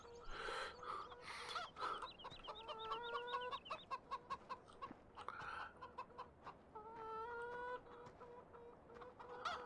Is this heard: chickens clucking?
yes